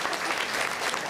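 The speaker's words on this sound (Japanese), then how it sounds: "みんなで拍手を振ろうぜ。" Steady crowd applause from a theme-park show audience at Tokyo DisneySea, dense and fairly close, with continuous clapping filling the whole moment and no voices standing out.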